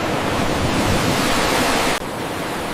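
Ocean waves roll at night in a loud, continuous broadband roar of surf with wind noise, close and steady, briefly dipping near the two-second mark before carrying on alone.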